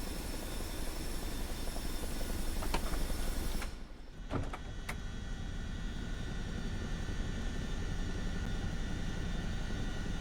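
Chinook twin-rotor helicopter in Microsoft Flight Simulator 2024, a steady dense rotor and turbine drone that dips briefly with a few sharp clicks and thumps, then resumes its constant loud hum.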